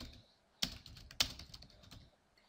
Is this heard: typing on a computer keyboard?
yes